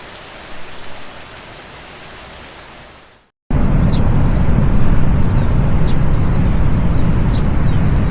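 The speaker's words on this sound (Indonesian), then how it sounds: "Sambil menunggu hujan mereda" Heavy rain pours down at Puncak Guha in Garut, West Java, first as a softer hiss, then after a brief silence as a loud, dense, steady downpour with scattered drops tapping close by.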